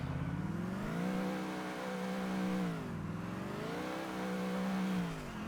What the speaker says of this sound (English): Car doesn't sound too good, but at least it looks beautiful.